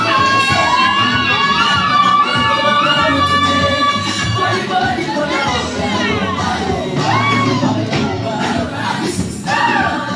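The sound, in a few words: crowd cheering and applauding at a wedding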